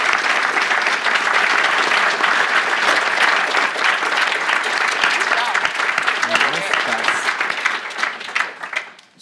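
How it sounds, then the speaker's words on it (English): A large audience at an admitted student day panel claps steadily in sustained applause, loud and dense throughout, fading out at the end. "Could we please give our panel a round of applause,"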